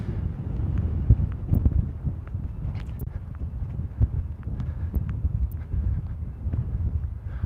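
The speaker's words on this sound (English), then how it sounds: "deal with this wind." Heavy wind buffets the microphone during an outdoor walk, a constant low rumble with gusty swells and faint footfalls underneath, and no talk.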